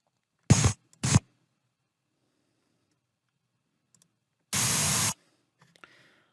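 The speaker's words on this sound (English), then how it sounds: "TV static effect, or static noise." A TV static noise effect: two short bursts of hissing white noise, then a longer half-second burst of loud static, with scattered faint clicks between, otherwise near silence.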